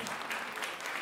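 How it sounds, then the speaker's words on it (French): An audience at a school performance at Lycée Professionnel Lomet in Agen claps steadily for the performers, a brief, even burst of applause with no voices. "On les applaudit bien fort"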